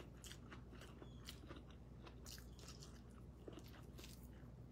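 Someone chewing crunchy fried sardines cooked with sponge gourd, close and quiet, with repeated crisp bites and crunches in an uneven rhythm, no talk.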